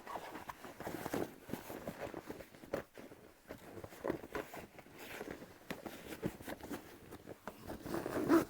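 A bag's zipper being worked during sewing, quiet close-up zip and ratcheting scrapes in an irregular stop-start rhythm, with faint handling rustles and no clear talk.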